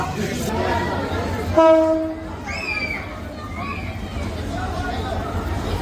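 A train horn sounds briefly amid the low rumble of a busy platform at Srimangal station, Bangladesh, as the train arrives, with crowd chatter and announcements carrying in the background.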